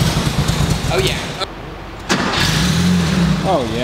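Barn-find Porsche 911 engine being cranked and catching, rough starting bursts and an uneven idle with a suspected vacuum leak, loud and close, with people talking over it.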